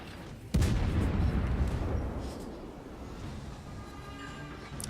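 Heavy warship guns boom in a naval battle video game, one loud sharp blast at about half a second followed by a long rumbling roll that slowly fades, with fainter distant firing continuing underneath.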